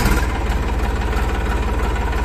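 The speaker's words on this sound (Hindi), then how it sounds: "इसको ट्रैक्टर को हम चालू करके देख लेते हैं, इसका साउंड सुन लेते हैं" An Eicher 380 Super Plus tractor, a 2021 model, idles loudly close by, its engine a steady, rhythmic low chug throughout.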